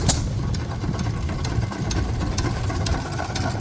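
A Desjardins hit-and-miss engine runs at a Florida Flywheelers show with a steady mechanical chugging, regular sharp clicks and pops repeating about every half second over a low rumble.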